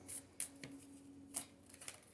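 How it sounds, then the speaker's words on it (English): A deck of Romance Angel Oracle cards being shuffled and drawn: a few faint, soft riffles and light card snaps, close and quiet over a low steady hum. "I'm going to be pulling from the Romance Angel Oracle cards first."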